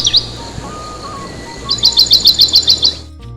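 Forest birds in New Zealand chirp in the morning: a bright, rapid series of repeated high tweets stands out clearly over a soft, steady woodland background, with a fainter call just before.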